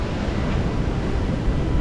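Wind blowing across the microphone at a breezy outdoor roadside stop, a dense, constant low rumble and hiss with no other clear sounds.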